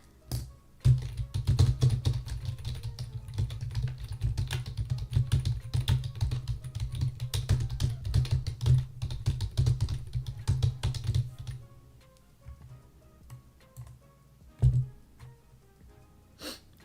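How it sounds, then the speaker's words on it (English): Loud computer keyboard typing with keys smacked hard, a dense rapid stream of sharp clacks for about eleven seconds, then a few scattered taps and one last burst. "That was me really trying to smack the fucking keys."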